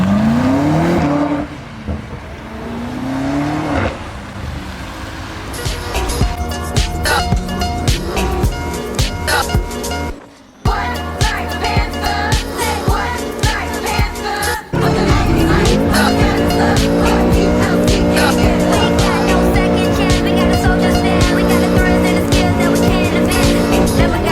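A car drifts in Tbilisi, its tires squealing in long, loud screeches while the engine revs hard. There is a brief cut before the skidding picks up again and runs on without pause.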